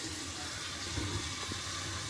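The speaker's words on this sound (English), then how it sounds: "Got the water flowing here." Water runs from a newly installed sink faucet into the drain as a faint, steady rush with no pauses.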